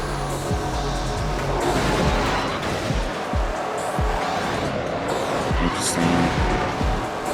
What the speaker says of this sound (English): Gonna hit the boost here.